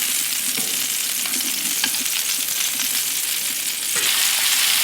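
Noodles and sweet onion fry on a Blackstone flat-top griddle, giving a dense, steady sizzle with small pops and scraping, close and loud with no talking.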